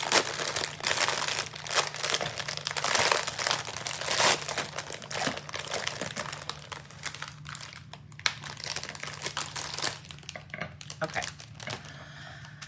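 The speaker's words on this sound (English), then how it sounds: "This crinkly plastic." Crinkly plastic packaging from a gem art coaster kit is crumpled and handled up close, a dense run of crackling bursts over several seconds, with a brief spoken word near the start.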